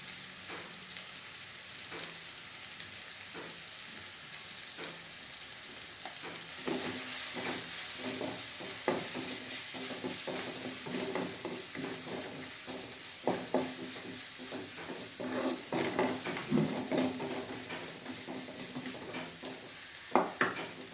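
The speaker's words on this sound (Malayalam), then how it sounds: "ഉള്ളിയൊക്കെ നല്ല രീതിയിൽ മൂത്ത് വന്നിട്ടുണ്ട്" Chopped onion with a little turmeric powder frying in a pan for a Mexican spinach thoran, a steady soft sizzle with occasional stirring scrapes and clinks, continuous and fairly quiet with no talking.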